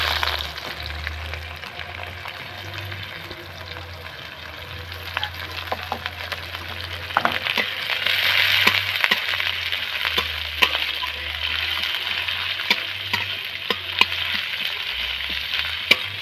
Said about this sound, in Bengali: আমি তেলের মধ্যে ভাজব তেলটা তেঁতে গেছে তার মধ্যে আমি গোটা জিরে গোটা করতে দিলাম তারপরে এই পেঁয়াজ কুচিগুলো দিয়ে দিলাম